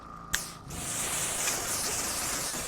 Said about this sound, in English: rinsing around, pulling on the hose like this, you want to use your other hand, and control the hose